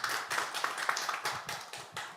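Audience applause at a Korean physical therapy association event, a dense burst of clapping from a crowd that swells and continues steadily for a couple of seconds.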